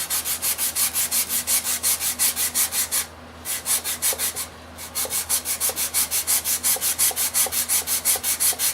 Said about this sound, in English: I take a sanding block or a piece of foam insulation